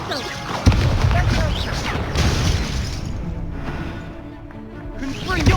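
Confringo fire spell blasts in the Hogwarts Legacy video game, a sharp explosive crack followed by rumbling bursts and crackle under game music and effects.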